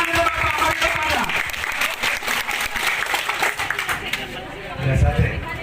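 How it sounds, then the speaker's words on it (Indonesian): Crowd applause and clapping fill a gathering at a village procession ceremony, dense and steady throughout, with voices mixed in and a louder swell near the end. "Tepuk tangan untuk Bapak Marido Padang."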